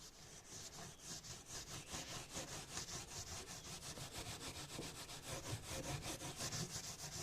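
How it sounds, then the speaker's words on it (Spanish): Close, rhythmic rubbing as a pad of oakum works an eco-friendly ointment into a small piece of wood, with rapid regular back-and-forth strokes continuing steadily and no talking. "voy a estar calafateando, así se llama el acto de pasar con una estopa un ungüento, en este pedacito de madera"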